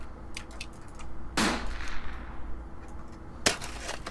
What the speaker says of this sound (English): Man, that is one firecracker of a gun.